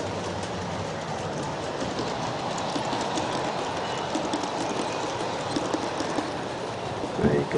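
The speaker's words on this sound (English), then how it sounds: "You can see a train coming up the inside path." An Aristo-Craft model train of reefer cars with a Mallet helper runs on an inside track path, giving a continuous busy rolling clatter with soft rhythmic clicks, fairly loud and steady, with faint background murmur.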